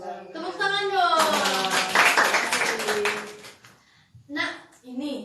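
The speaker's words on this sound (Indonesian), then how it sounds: "Tepuk tangan dong." An audience at an Indonesian fan event claps and cheers loudly for several seconds, with voices mixed through the noise. The crowd fades and a speaker's talk resumes near the end.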